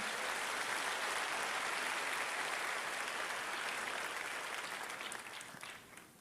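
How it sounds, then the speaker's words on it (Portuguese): Congregation at a Portuguese-language church service applauding the Lord, a broad continuous roar of many hands clapping together that holds steady and then begins to thin and fade toward the end. "Você consegue aplaudir ao Senhor pela sua palavra agora?"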